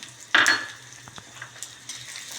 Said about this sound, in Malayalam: മുളകൊന്ന് ചൂടാക്കണു അതിൻ്റെ കൂടെ ഈ നാല് ടീസ്പൂൺ മല്ലി അത് ആഡ് ചെയ്യുന്നു